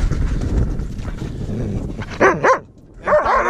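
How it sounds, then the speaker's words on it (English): A wolfdog gives a few loud, close barks in two short bursts, rising out of murky outdoor background noise. "And here, wolf dog Vigula."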